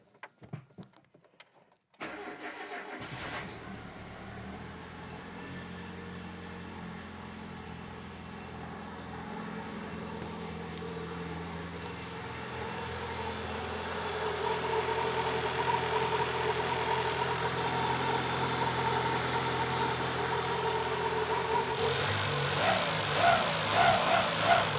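A warm Peugeot 205 engine starts up and settles into a steady, close idle after a coolant system purge. A faint clatter comes before the start, and the running note grows slightly fuller partway through.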